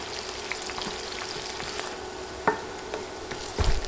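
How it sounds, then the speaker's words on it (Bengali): A large sliced onion frying over medium heat: a steady, quiet sizzle with light scraping and a few brief clatters as it is stirred. "নেড়ে নেড়ে পেঁয়াজ ভেজে নিচ্ছি।"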